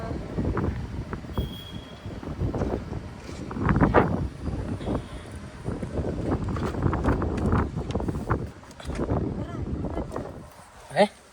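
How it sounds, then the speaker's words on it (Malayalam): Strong outdoor wind gusts roar and buffet the microphone in uneven, rumbling waves, swelling loudest around the middle, while people talk over it. "നല്ല കാറ്റ്"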